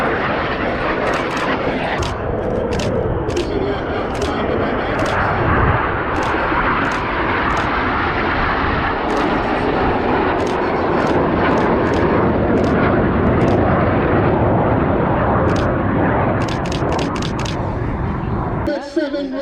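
RAF Red Arrows jets roar past at an air show in Denmark, a loud sustained engine rush filling the whole stretch with faint crowd clicks and talk underneath, fading abruptly at the end.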